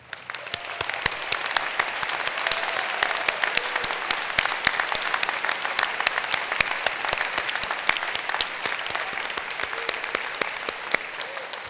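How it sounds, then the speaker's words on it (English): At a medical school white coat ceremony, the audience gives a long, steady round of applause for the assisting medical students, even crowd clapping that continues evenly for the whole stretch. "Will these students please stand for a round of applause?"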